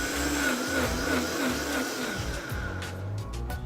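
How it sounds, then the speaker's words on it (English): A blender whirs loudly and steadily, chopping a fresh salsa of rough-chopped ingredients, cilantro leaves, lime juice and salt, its motor pitch wavering as the contents churn. "We just put it in the blender and press play."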